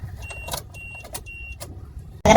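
A Suzuki WagonR engine cranks without starting, the starter turning over in a rhythmic series of loud, evenly spaced churning pulses up close, ending in an abrupt louder burst.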